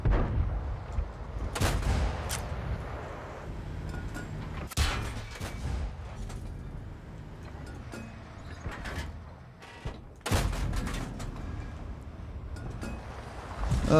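Tank cannon shots boom in a World of Tanks battle, several loud heavy blasts spaced a few seconds apart over a rumbling engine and ambient battlefield noise.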